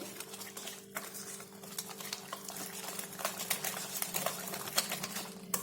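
Semolina and cabbage batter being mixed in a bowl, with soft, irregular clicks and scrapes of a spoon that quicken and grow a little louder, over a faint steady hum.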